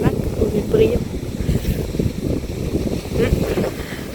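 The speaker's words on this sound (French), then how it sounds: "Je sais même pas si vous m'entendez avec le vent." Gusty wind buffets the microphone on a beach in Calvados, Normandy, a continuous low rumble with surging gusts, carrying some background sound of the sea throughout.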